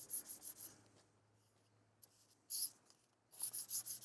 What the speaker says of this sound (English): See, I'm kind of sanding the edges just a little tiny bit, rolling it over.